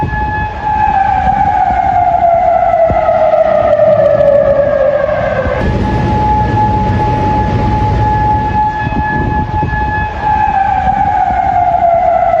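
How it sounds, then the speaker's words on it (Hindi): Sirens sound in Kuwait after Iranian attacks, a loud, sustained mechanical wail whose pitch slowly falls and then rises again, with several overlapping tones and no voices. "सायरन बजते हुए सुनाई दिए हैं।"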